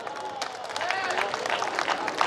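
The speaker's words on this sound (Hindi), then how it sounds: "विशेष रूप से ताली बजा दें" An audience at a kavi sammelan poetry gathering during a mela in Shivrinarayan claps briefly, a moderate patter of applause mixed with a voice speaking over it.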